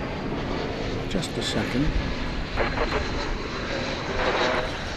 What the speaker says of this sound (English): This is Flight 11 to Haneda, an Airbus A350 1000.